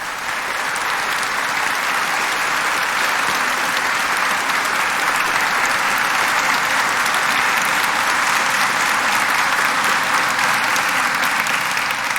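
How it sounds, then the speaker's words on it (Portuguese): A church congregation claps steadily for a newly baptized child at an Advent Sunday Mass, a dense, even round of applause holding at full strength for about twelve seconds with no voices over it. "Vamos dar uma salva de palmas para o Joaquim?"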